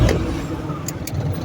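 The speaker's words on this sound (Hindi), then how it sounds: "ये मैंने अब स्विच ऑन किया, स्विच हो गई और गाड़ी स्टार्ट हो गई।" A Suzuki Mehran car's engine idles steadily after starting, a low continuous rumble close by, with a couple of brief higher clicks or noises over it.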